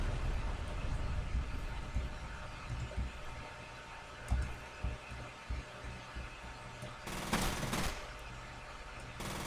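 F.E.A.R. gunfire comes in short bursts and single cracks, fairly quiet in the mix, with a denser loud burst near the end over a low rumbling game background.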